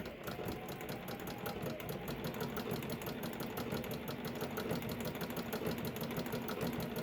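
Bernina sewing machine fitted with a number 86 foot running steadily as it stitches a ruffle for a quilt, a continuous mechanical whirr and rapid needle chatter heard close and alone.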